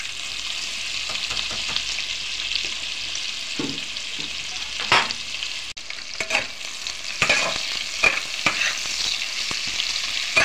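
Chopped onions frying in butter in a pan: a steady close sizzle broken by repeated scraping stirs and clatters of a spatula, no talk.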